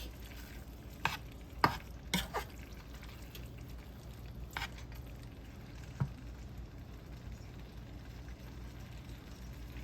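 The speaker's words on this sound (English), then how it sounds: "Make sure you stir this as it's coming to the boil" Beef stroganoff sauce, thickened with flour, is stirred in a pot as it comes to the boil: soft, scattered spoon knocks and scrapes over a faint low bubbling, quiet and close.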